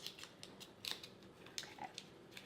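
A paper liner is peeled back from a hummingbird cupcake made with banana and pineapple, a faint close crinkling and tearing in small irregular bursts with no voices.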